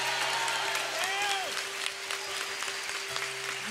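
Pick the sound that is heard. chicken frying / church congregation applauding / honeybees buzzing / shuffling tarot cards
church congregation applauding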